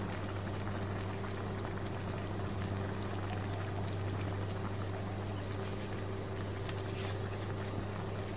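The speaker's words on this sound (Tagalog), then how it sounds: "So guys, lalagyan natin siya ng suka." Chicken adobo simmers in a pot as vinegar is added, giving a steady, dense bubbling and liquid churn over a low constant hum, with no voices.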